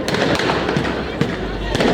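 New Year fireworks at Brandenburg Gate in Berlin crackle and bang loudly and continuously, with dense bursts close by and crowd voices and talk mixed throughout.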